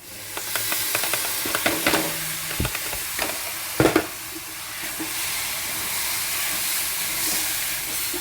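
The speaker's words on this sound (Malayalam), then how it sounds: "നല്ലതുപോലെ അങ്ങ് ഇളക്കി യോജിപ്പിക്കുക" Mango pickle is stirred in a pan, with repeated scraping and clinking of a spoon against the metal over a low hiss, a few sharper knocks midway, then a quieter steady hiss.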